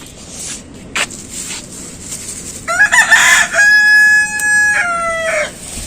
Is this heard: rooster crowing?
yes